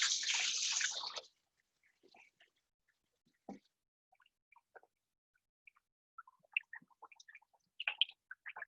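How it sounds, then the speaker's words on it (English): A brief burst of running water over hands at a kitchen counter opens the sound, then gives way to faint drips and small clicks. "I'm gonna rinse my hands really quick."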